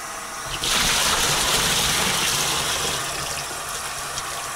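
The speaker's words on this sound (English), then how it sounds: "So we've got a little bit of water in there just to rinse that off." Water gushing out as a beer keg is rinsed and emptied into a sink, a loud continuous pour that starts abruptly, holds steady, then eases slightly, heard up close without speech.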